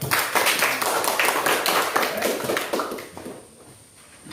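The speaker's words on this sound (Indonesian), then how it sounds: "Tepuk tangan untuk kita semua." A classroom of students claps hands together in a brisk, loud burst of applause that fades out after about three seconds, leaving quiet room sound.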